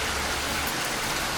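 Steady, even rain hiss from a Trainz railway simulator game, a continuous broadband wash of falling drops that holds its level alone for the whole moment with no voices.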